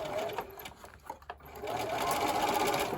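A sewing machine stitching a fabric mask, with a close, steady mechanical whir that briefly falters before running on evenly.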